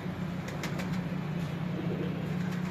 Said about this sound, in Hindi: कबूतर बाहर निकाल दो।